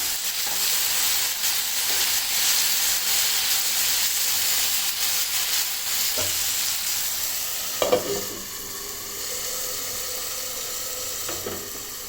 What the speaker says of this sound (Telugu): వెల్లుల్లి కూడా తీసుకొని ఫ్రై చేసుకుందాం